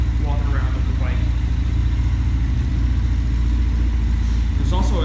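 An X-22 125cc motorcycle idles steadily at about 1,500 rpm, a loud, continuous low engine thrum running without a break from start to finish, with someone talking over it.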